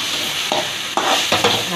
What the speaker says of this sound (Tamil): அதையும் சேர்த்து நல்லா இந்த மாதிரி ஃப்ரை பண்ணணும், அப்போ தான் அந்த இஞ்சியோட பச்சை ஸ்மெல் போகும்.